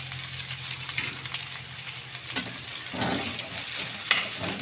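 Rice and white onion fry in a pan for sinangag, a continuous close sizzle punctuated by scraping stir strokes and a sharp metallic clink near the end, with no voices.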